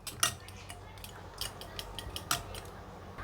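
Eggs with onion and chilli flakes being beaten in a bowl for a cheese bread omelette, a run of quick metallic clinks and scrapes of the utensil against the bowl, close and uneven, with no talking.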